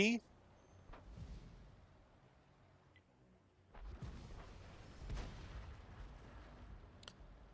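Self-propelled artillery firing in World of Tanks: a quiet, muffled boom with a low rumbling tail, followed by softer distant impacts and thuds. Everything sits at low level against game background noise.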